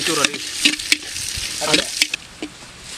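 Onions sautéing in hot oil in a clay pot for chicken biryani, with a steady loud sizzle and repeated scraping stirs of a spoon against the pot, close up and without talking.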